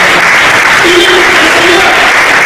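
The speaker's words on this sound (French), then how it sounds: "Acclamons le Seigneur pour Dieu pour sa parole." A church congregation claps together in sustained, dense applause that fills the room loudly from start to finish.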